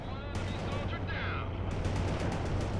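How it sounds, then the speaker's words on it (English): A Bradley IFV returns fire in World in Conflict, a dense stream of rapid automatic cannon and gunfire under a steady low engine hum, with brief whooshing bursts mixed in. "Bradley returning fire at hostiles."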